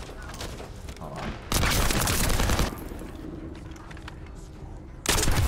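Bursts of rapid video-game gunfire crackle loudly in two heavy volleys, with quieter shooting and game noise between them.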